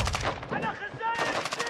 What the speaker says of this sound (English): Is someone shooting here? He's shooting from in here.